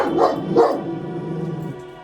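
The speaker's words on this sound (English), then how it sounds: "there's a dog that's behind me making noise" A dog barks twice close behind the person, two short loud barks followed by a low trailing growl or whine, with no talk over it.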